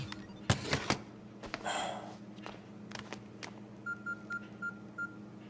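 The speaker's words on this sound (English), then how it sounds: "don't you hear your phone ringing?" A phone rings in a crime audio drama, a faint run of short, evenly spaced electronic beeps near the end, after a few quiet clicks and rustles.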